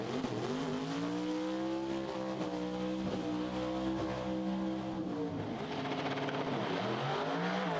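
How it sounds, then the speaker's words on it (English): A Pontiac Firebird, a Top Sportsman car, makes a roughly seven-second drag run at Santa Pod, its engine a loud, continuous roar with a strong rising and falling pitch. "this is the Spirac Racing Firebird of Neil Hunter"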